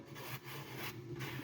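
Sandpaper, starting at 60 grit, rubs back and forth over a 3D-printed Boba Fett helmet in quiet, rhythmic scratchy strokes, close and faint.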